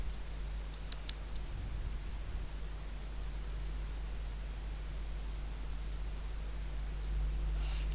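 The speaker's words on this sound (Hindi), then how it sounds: "तो हम लोग यहाँ पे कुछ टाइप करते हैं टेक्स्ट" Light clicking keystrokes on a computer keyboard while text is entered into a Microsoft Excel sheet, scattered taps in small clusters over a steady low hum, with no voices.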